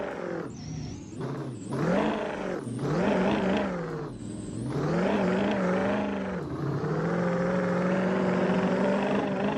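Turbocharged Ford F-350 6.0 Powerstroke diesel truck engine in BeamNG Drive, loud and close, revving up and down in several surges with rising and falling whine, then holding a steadier high drone at the end.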